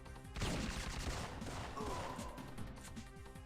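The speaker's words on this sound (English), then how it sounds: "she wants to keep mag dumping them." Rapid repeated gunfire from a spy-themed video game, a player emptying a full magazine into enemies, comes as a quick burst of shots fading into a scatter of further shots and reverberating impacts at moderate volume.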